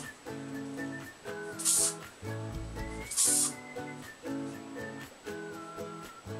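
Hairspray is sprayed onto brushed hair in two short, hissing bursts a second or so apart, heard over steady background music.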